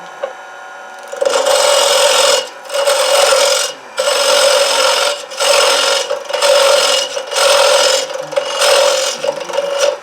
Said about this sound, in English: I'm gonna use a square inch scraper right here